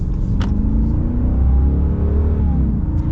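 A 2022 Ram 2500 Power Wagon with its 6.4-litre Hemi V8 accelerating, a loud steady engine drone rising in pitch from inside the cab, with no talk.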